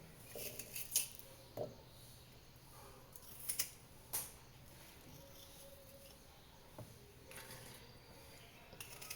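Knife cutting through Indian gooseberries (amla) on a board, a series of faint, quiet clicks and taps spread irregularly over the stretch, with no talking.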